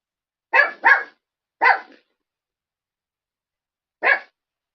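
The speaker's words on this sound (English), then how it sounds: "Dogs only bark when they're touched inappropriately." A dog lets out four short, sharp barks. The first two come as a quick double, then a single bark follows, and after a long silence one more bark is heard, loud and close.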